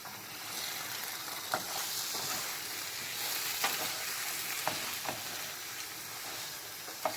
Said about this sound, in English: add the cooked lamb. Cook until fairly dry. I'll just keep stirring it.